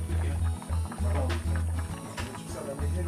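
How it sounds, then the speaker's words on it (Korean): A pot of pork bone and potato stew boils, its bubbling a steady, close, pulsing gurgle that repeats in short bursts. "오늘의 점심 메뉴가 보글보글 맛있게 끓고 있습니다"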